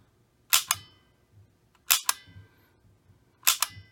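Three sharp clicks from a Famicom light gun trigger, each a quick doubled snap spaced about one and a half seconds apart, close and clear against a quiet background.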